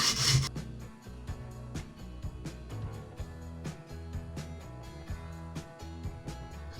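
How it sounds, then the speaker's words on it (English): A cow bone being sanded down by hand, rapid repeated rasping strokes in an even rhythm, close and fairly quiet, with a brief louder scrape at the start. "we're just going to sand this down either"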